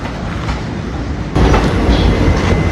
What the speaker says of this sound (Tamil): Nagasol Express is coming on platform number 1.